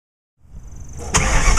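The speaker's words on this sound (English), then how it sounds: "Alright Aubrey, you ready to go for a ride in this resto mod?" A 1968 Ford Mustang Fastback resto-mod engine cranks and catches after a moment of silence, then settles into a loud, close idle with a rough low rumble.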